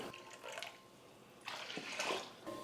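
Water pours from a vessel into a pressure cooker while sweet pongal is being made, a quiet splashing stream in two bursts with a short pause between them.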